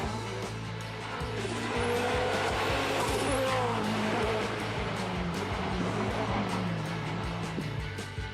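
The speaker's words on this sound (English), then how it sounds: "This is a 1993 Lancia Delta Integral Evolution 2, and it is simply the greatest hot hatchback ever made." A 1993 Lancia Delta HF Integrale Evoluzione 2 hot hatchback drives by with a steady engine drone that swells and fades, with a brief tire squeal near the middle.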